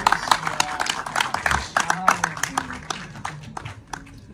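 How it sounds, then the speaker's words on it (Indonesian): An audience at the launch event for Uwais Pictures applauds a guest with scattered clapping of moderate loudness, mixed with people talking. "Tepuk tangannya untuk Om Dim."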